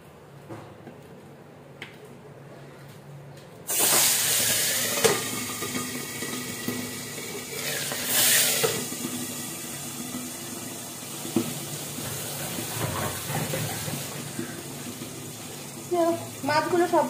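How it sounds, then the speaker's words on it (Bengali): Shing fish dropped four or five at a time into hot oil, frying with a loud, steady sizzling hiss that starts abruptly and continues throughout, with brief spatters and a few faint background sounds. "তেল আমার গরম হয়ে গেছে। এবার আমি মাছগুলো 4-5টা করে ছেড়ে দিচ্ছি।"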